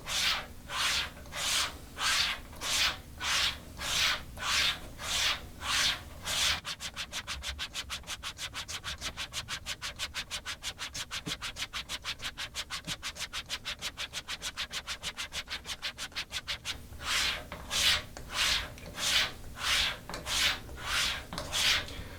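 A straight razor swished back and forth on a leather strop in even, rhythmic strokes, speeding into a rapid flurry of short strokes before settling back to slower passes.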